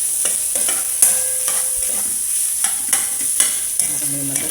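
Garlic and onion stirred into sizzling ground meat in a pan for a mixed vegetable dish, with steady frying and repeated scraping, clattering strokes of the spatula close by.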